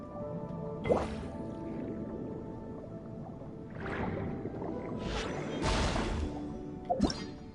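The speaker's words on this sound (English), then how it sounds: "High pressure water vent, as the name suggests. Spray out water current" A high pressure water vent in Genshin Impact's Fontaine region gushes and sprays in watery bursts, with splashy, dripping surges rising and falling over a steady background.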